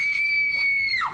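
A woman's sustained high-pitched scream of terror, loud and close, holding steady before sliding downward at the end, with no other sounds around it.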